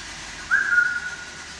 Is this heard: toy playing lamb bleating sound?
no